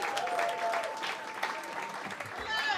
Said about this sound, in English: Give him a huge round of applause and give it up for Alexander.